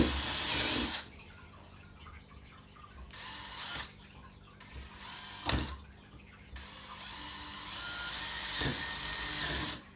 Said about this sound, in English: just drill some more down between those holes, just to give a bit more flow